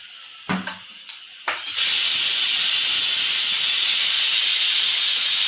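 Spices fry in hot oil for rajma gravy: after a few clinks and taps, a loud, steady sizzling hiss starts and continues evenly, heard close with no talk.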